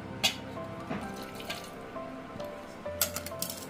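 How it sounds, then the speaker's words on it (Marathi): Hot water trickles and splashes briefly into a bowl of flour, with a few clinks and drips, fairly close and with no talking. "आणि या गरम गरम पाणी हा ओतायचा"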